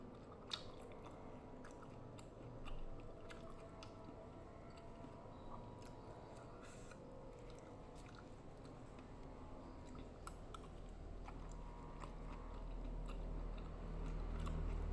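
Close chewing and crunching of rujak, a fruit salad, with steady wet bites and mouth sounds running throughout, with no talking.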